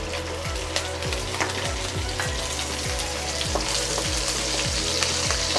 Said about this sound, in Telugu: ఆయిల్ వేడెక్కింది. ముందుగా ఈ మసాలా దినుసులు వేసుకుందామండి.